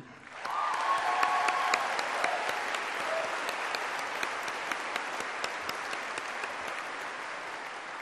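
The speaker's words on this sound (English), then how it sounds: "So big clap for all of you." Sustained applause from a large audience at a university graduation ceremony, swelling in after a half-second and continuing steadily as a dense, even clatter of many hands, with no talking over it.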